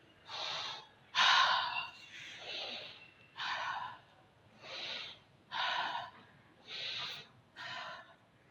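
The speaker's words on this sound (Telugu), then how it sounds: "ముక్కుతోనే గాలి పీల్చాలి, ముక్కుతోనే గాలి వదిలేయాలి." Steady nasal breathing during a yoga session: about eight close, airy breaths in and out through the nose, evenly paced and alone, without talk.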